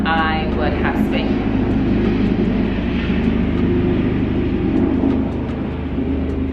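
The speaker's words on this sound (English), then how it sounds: "It is a helicopter." A helicopter flies overhead, its steady low rotor rumble and broad engine noise holding loud and close throughout without fading.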